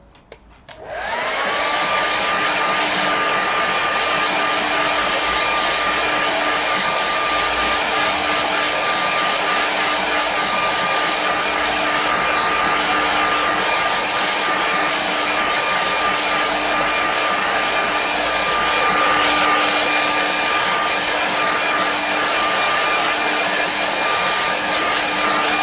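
A hair dryer blows steadily over a watercolour painting of sea and cliffs, switching on abruptly and holding a loud, constant whooshing drone for the whole stretch, with no voices.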